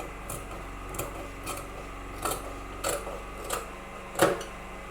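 Scissors cut into shirt fabric in short, separate snips, about seven quiet crisp clicks spaced roughly half a second apart over a soft low background, with the last cut a bit louder.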